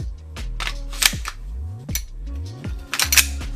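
Airsoft gas pistol, an RWA Agency Arms EXA, firing a series of sharp, snappy shots in quick pairs and singles, each crack followed by a short metallic slide clack, close and loud with no talking.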